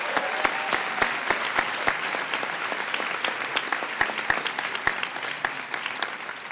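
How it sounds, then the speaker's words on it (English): An audience at a school IB pinning ceremony claps steadily, with sharp individual hand claps standing out over a continuous wash of applause at moderate distance. "Let's give these guys a round of applause."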